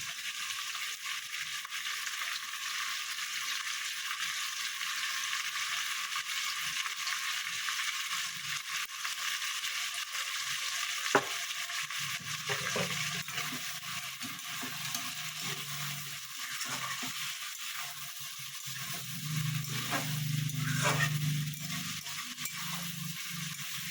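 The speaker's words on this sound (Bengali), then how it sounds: "এইভাবে ভালো মতো ভেজে নেবেন।" Chicken pieces frying in a pan for chicken kosha, a low steady sizzle with occasional stirring scrapes and one sharp clink, fairly quiet and close, no talking.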